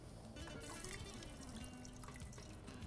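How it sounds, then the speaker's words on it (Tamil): Water is poured into a pot in a home kitchen, making a faint, continuous trickling splash with a few drips and no voices. "இந்த தண்ணி இருத்துறேன்."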